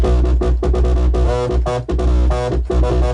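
A squelchy, resonant Roland TB-303 synth bass pulses in a fast repeating acid pattern, loud and punchy, notes sliding and snapping in quick succession.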